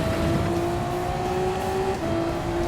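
Race car engines drone loud and steady as a rival pulls alongside and overtakes at Fuji in Gran Turismo 7, a sustained engine tone holding close with no talking.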